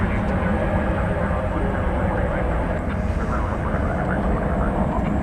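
An American Eagle E-Jet airliner departs DFW Airport at night, its engines a steady, distant low roar and rumble sustained throughout.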